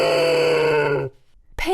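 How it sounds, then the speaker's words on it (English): A pig gives one long, drawn-out grunt lasting about a second, loud and near, followed by a short pause and the start of another sound. "Pig,"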